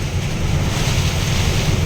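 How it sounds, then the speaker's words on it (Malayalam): Strong wind roars in a steady, loud rush during a rainstorm in Odisha, buffeting the microphone with deep rumbling gusts and a broad hiss throughout. "നല്ല ബെസ്റ്റ് ഗംഭീര കാറ്റുണ്ട് കേട്ടോ"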